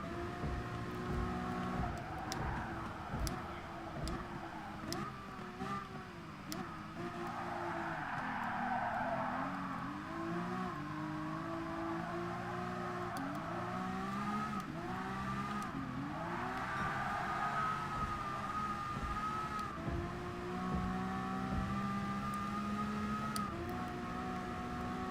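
Ferrari LaFerrari racing in Gran Turismo Sport, engine note repeatedly climbing and dropping through gear changes over a continuous, moderately loud drone with no talking.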